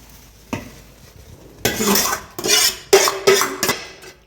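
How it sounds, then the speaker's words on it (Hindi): Amaranth (cholai) laddu mixture being stirred in a pan with the gas turned off, giving a run of scraping, clinking strokes of a spoon against the metal pan after a single knock, close and fairly loud. "अब इसको ऐसे करके चला दो।"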